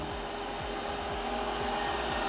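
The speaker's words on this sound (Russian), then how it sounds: "Все, пылесос осматривается." An Ecovacs Deebot Y1 Pro robot vacuum cleaner runs with a steady, close motor whine and airflow hiss, broken by a repeating low sweeping pulse about every half second as it starts surveying the room.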